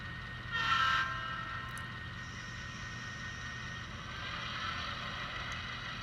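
A model train rumbles along at a distance while switching cars, with a steady low drone; a short horn blast sounds early, then the rolling noise continues with a faint rise later.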